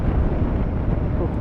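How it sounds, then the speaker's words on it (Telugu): Strong wind buffeting a rider's microphone during a motorcycle trip from Tirupati to Nellore, a steady loud low roar filling the short moment. "గాలి అయితే బీభత్సం కొడుతుంది."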